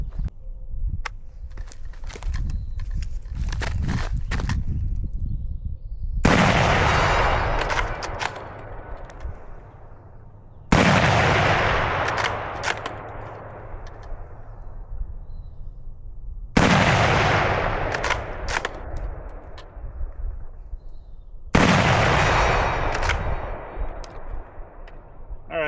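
Surplus military rifles fire four loud, sharp gunshots at an outdoor range, spaced about five seconds apart. Each crack rings out and decays slowly, and lighter clatter and handling noises come before the first shot.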